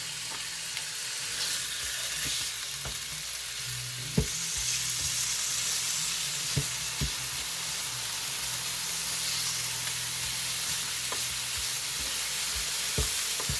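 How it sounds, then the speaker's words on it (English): Loud, continuous sizzling from chicken frying on a hot electric flat-top griddle, with occasional scraping clicks of a utensil, close and steady without speech. "Hear that sizzle."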